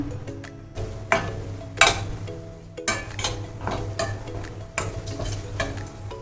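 Dry fruits roasting in a pan for finger millet ladoos, with a low sizzle beneath intermittent stirring scrapes and clinks of a spoon against the pan, close by.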